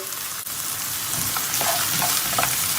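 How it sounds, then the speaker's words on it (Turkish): Onions fry in a pan with a steady, close, bright sizzle and crackle that holds for several seconds, with faint stirring scrapes underneath and no voices. "soğanların kavrulmasını bekliyoruz"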